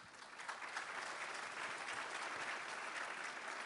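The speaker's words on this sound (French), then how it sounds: "et on peut l'applaudir" A French business gathering in Sweden claps to welcome a guest, giving a continuous, fairly faint wash of many hands heard from a distance.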